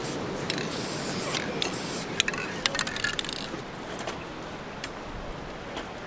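Rust-Oleum spray paint can hissing in short bursts at a junkyard rally car build, with faint clicks and rattles between the sprays.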